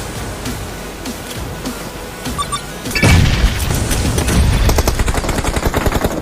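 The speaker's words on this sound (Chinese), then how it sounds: "鲨鱼2次丢雷成功拿下灭队。" Grenade explosions in the mobile battle royale game Peacekeeper Elite: a heavy boom lands midway, followed by a loud, rapid crackle of gunfire-like bursts that continue to the end.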